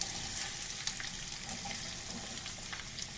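Bite-sized apple pieces frying in butter and olive oil in a pan, a steady, bright sizzle that stays close and continuous throughout.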